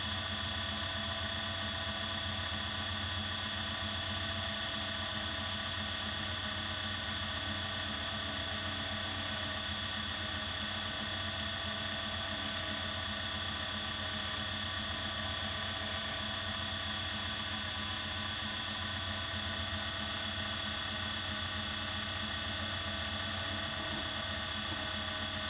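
A new small watchmaker's lathe spinning up around 2000-2100 RPM while turning a watch stem for a Patek Philippe 16-250 gives a steady, faint mechanical whir with a fine ratcheting, gear-like texture, even and unbroken.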